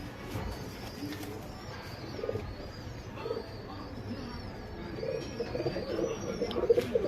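A male pigeon cooing, soft low repeated coos close by among light rustling and faint bird chirps, growing slightly busier toward the end.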